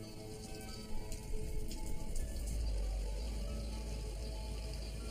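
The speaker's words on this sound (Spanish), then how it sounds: "Está lloviendo otra vez." Steady rain patters and hisses on surfaces, with a soft low rumble underneath; no voices.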